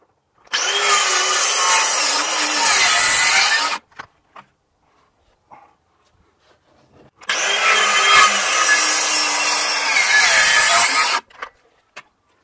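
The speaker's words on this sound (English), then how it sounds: "finish it off with the sawzall." A reciprocating saw cuts through pergola lumber in two loud, rasping bursts of about three and four seconds. A quiet pause with faint knocks separates them.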